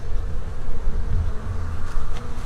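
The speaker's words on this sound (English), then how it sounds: "The cluster of bees is right in the center, right here." Honey bees in a hive, the cluster at the center beneath a queen excluder, give off a steady low, dense buzz that stays near and fairly loud throughout, with no voices.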